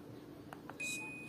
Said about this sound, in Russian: все известные звуки заменились на какие-то пикалки